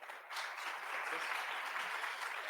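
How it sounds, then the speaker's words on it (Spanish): A conference audience at a developer event claps for a speaker, the applause rising quickly after a brief moment and holding steady at moderate volume. "Un aplauso, por favor."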